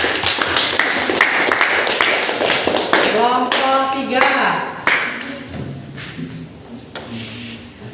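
A classroom of students claps together during a teaching session, a brisk burst of many hands that fades as voices take over and someone speaks over the tail end.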